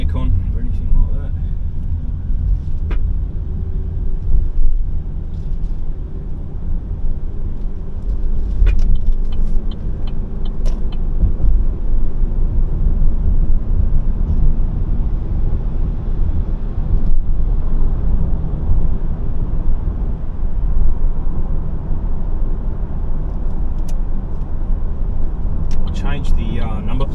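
Inside a car with no air conditioning while driving, a constant loud low engine and road rumble fills the cabin, with occasional small rattles and clicks.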